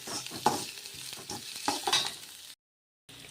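Onions being sautéed in a pan for poori masala: a continuous sizzle with spoon stirring and scraping, close, ending in a brief silent gap.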